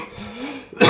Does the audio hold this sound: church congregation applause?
no